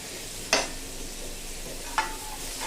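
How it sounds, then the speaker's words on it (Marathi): Raw green mango pieces being sautéed in a pan over a medium flame while making methamba, a low steady sizzle broken by two sharp stir-and-scrape bursts, quiet and close with no talk. "परतवून घेतल्यानंतर कैरी छान परतून घ्यायची"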